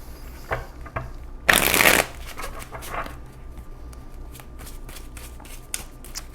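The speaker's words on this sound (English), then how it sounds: "Let's do one shuffle here" Tarot cards being shuffled by hand in one loud riffling burst, followed by softer scattered taps and card handling, close and intimate with no talking.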